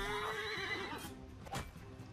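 A horse whinnies and neighs in Mount & Blade II: Bannerlord, one drawn-out call with a second burst later, heard close against a steady game background with no talking.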